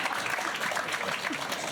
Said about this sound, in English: It does deserve a clap.